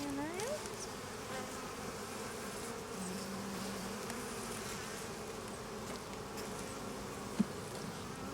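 Honey bees buzz over a brood frame lifted from a hive, a steady, soft, close swarm hum with individual bees droning past, and one brief click near the end.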